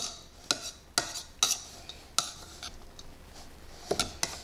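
A spoon stirs rice pudding mixture in a bowl, with several sharp clinks and scrapes against the bowl at irregular intervals, fairly close and quiet, with no talking.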